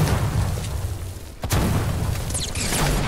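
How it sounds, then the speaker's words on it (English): An egg launcher explosion from Fortnite, heard as a dull boom with a burst, then more thumps and crackling shortly after, all fairly loud and close. "Egg launcher"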